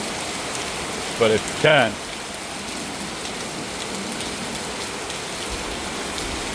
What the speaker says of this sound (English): that is some heavy rain coming down right now